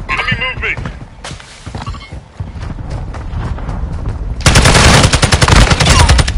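Video game gunfire: scattered shots at first, then a loud, dense burst of rapid automatic fire in the final seconds, with in-game voices calling out over the shooting.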